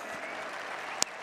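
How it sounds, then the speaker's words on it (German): Audience applause at Werder Bremen's 2016/17 team presentation, heard as dense, steady crowd clapping throughout, with one sharp click near the end. "Herzlichen Applaus"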